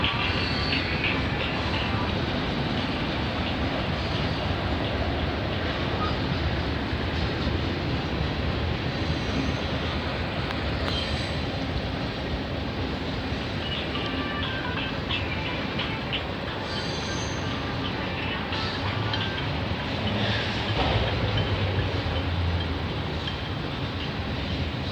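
A CN freight train rolling past in Burlington, Ontario, a continuous loud rumble of wheels on rail with metallic clatter and intermittent high squeals, sustained close by throughout.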